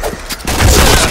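A grenade explosion in the video game Point Blank erupts as a loud, dense boom that starts midway and rumbles on to the end, following a few sharper crackling hits at the start.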